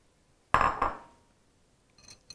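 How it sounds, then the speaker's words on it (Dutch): Salad leaves with broccoli and vinaigrette hit a bowl in a sharp, close clatter that fades quickly, then a few soft clinks of utensils follow. "We gaan de sla alvast omscheppen met de broccoli en met onze vinaigrette en de bieslook."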